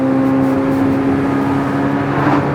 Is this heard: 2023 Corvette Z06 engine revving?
yes